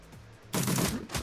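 A short burst of gunfire goes off in the video game Shadowrun Returns: Antumbra, loud and close, cutting in after a quiet moment.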